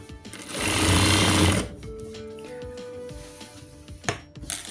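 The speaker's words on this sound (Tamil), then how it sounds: "இப்படி தட்டி விட்டுட்டு ஸ்டிச் பண்ணிக்கலாம்" Sewing machine stitching a saree fall whirs in one loud, close burst of just over a second, followed by quieter fabric handling and light knocks.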